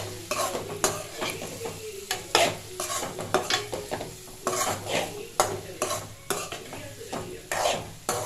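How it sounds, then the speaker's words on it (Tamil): Boiled potato pieces fry in an oil masala with tomato as a spoon stirs them around the pan, producing repeated scraping strokes over a steady sizzle, close and clear with no talking. "அதில் போட்டு அப்படியே பரட்டி விடுங்க"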